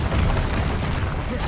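Bombarda explosion spell in Hogwarts Legacy, a loud, dense rumbling blast that fills the whole moment with broadband roar and no clear break.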